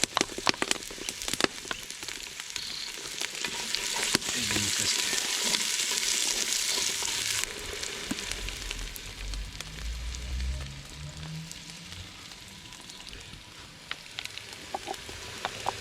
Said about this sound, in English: we're going to add some onions and some garlic to the mix